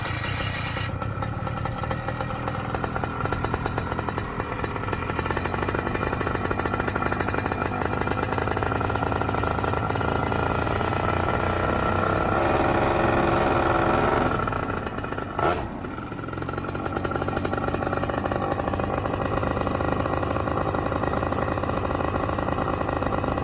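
A BlackHawk Titan 210 paramotor engine fires up and runs during break-in with a loud, harsh, continuous two-stroke buzz close by. The pitch rises briefly, then dips and settles back into steady running.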